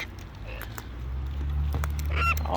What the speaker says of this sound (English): hello, bird, you naughty birdie.